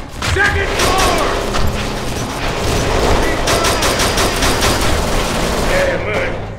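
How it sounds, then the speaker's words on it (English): Sustained, loud gunfire crackles from several weapons in a Kane and Lynch 2: Dog Days firefight, with shots coming from a second floor, mixed with shouting voices and heavy background noise throughout. "Where the fuck are the shots coming from?"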